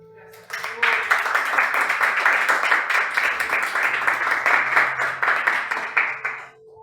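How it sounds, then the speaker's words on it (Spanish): Congregation in a church service breaks into loud, sustained applause for about six seconds, dense clapping from a full room that fades out at the end, with a voice briefly audible at the start. "Vamos a dar un fuerte aplauso al Señor"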